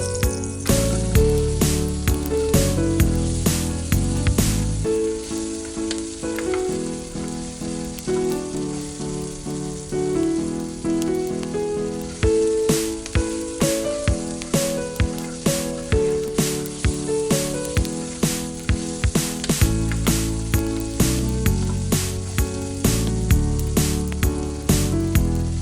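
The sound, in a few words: onion sizzling as it fries in a miniature pan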